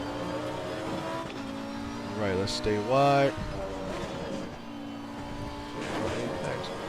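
A race car engine in the Assetto Corsa Competizione sim at Kyalami drones steadily, then rises through a sharp rev and downshift sequence, with a driver talking over it.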